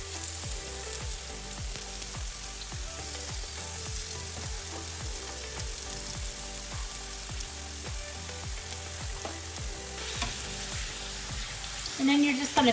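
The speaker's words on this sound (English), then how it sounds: "So now you can start placing your chopped potatoes into the frying pan." Food sizzling and frying in a hot pan, a continuous crackle with faint scraping, rising louder near the end.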